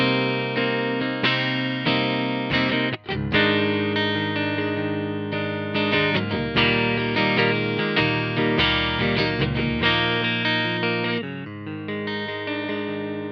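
An electric guitar plays through a NUX Amp Academy Super Reverb amp model, giving a continuous run of strummed chords and picked notes with a brief choke near the start, bright and ringing, loud and up close.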